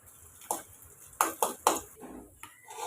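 Metal spatula scrapes and clinks against a pan several times in irregular strokes while roasting chopped coconut, with a faint sizzle underneath.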